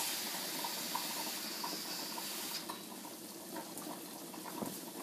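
Water runs into a pan holding cauliflower and oil, a steady close hiss and splash that softens partway through, with no talking.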